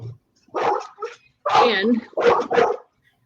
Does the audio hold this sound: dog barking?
yes